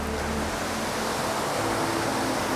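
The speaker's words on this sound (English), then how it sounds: "Right next to the villa is a small waterfall. In fact, you might actually hear the sound of running water." Steady rushing water from a small waterfall beside a lakeside villa on Lake Maggiore, a continuous broadband wash heard close and alone throughout.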